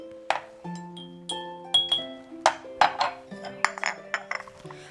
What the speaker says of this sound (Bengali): এখন একটু নেড়ে দিলেই হয়ে গেল আমাদের মালটা চা।